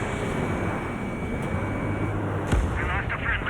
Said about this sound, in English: The harbor's under heavy fire!